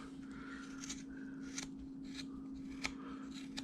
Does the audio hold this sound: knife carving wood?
yes